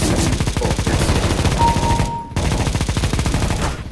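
Rapid automatic gunfire in the video game PUBG, a loud continuous rattle of shots for several seconds with a brief gap midway, no talking.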